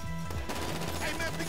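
Uzi fire in a Yakuza video game: quick bursts of rapid shots rattle out over a low, pulsing game soundtrack, fairly quiet in the mix.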